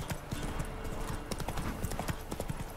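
Horse hooves clip-clop in an irregular trotting rhythm in The Witcher 3, fairly close and steady throughout under game ambience, with no speech.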